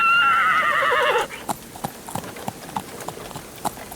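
A horse whinnies and neighs loudly and close by for about a second, then its hooves clip-clop in a quick, steady rhythm as it sets off at speed on a stormy night.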